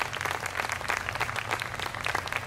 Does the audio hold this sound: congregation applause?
yes